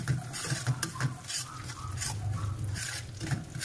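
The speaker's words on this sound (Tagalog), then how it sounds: "So, ang gagawin natin, halo-haloin lang natin siya." A spoon stirs and mixes homemade salad dressing ingredients in a bowl, giving a soft, continuous clinking and scraping patter that stays steady and close, with no talking.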